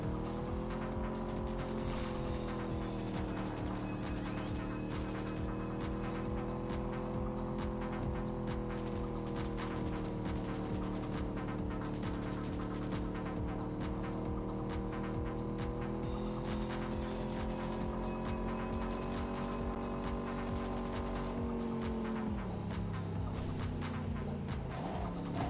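Video game race cars roar continuously with sustained engine tones that rise and fall under shifting revs, the engines dipping and changing pitch near the end, loud and steady with no talk.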